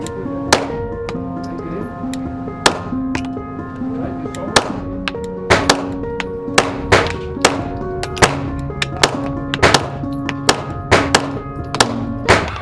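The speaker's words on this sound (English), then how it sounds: "The last ones I was shooting obviously very quickly, as you could tell." A CZ P-10 C pistol fires a long series of sharp, loud shots at a range, spaced unevenly at first and then coming in quicker bursts, with ringing echoes between them.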